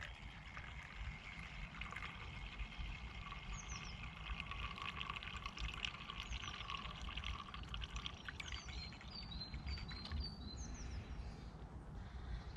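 Liquid fuel pours steadily from a Trangia fuel bottle outdoors at a bushcraft shelter, a continuous trickling splash with faint birdsong in the background.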